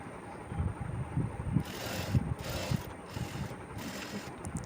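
A sewing machine stitches a niqab hijab with a rapid mechanical chatter and rhythmic clicking, running in short bursts with brief pauses between them.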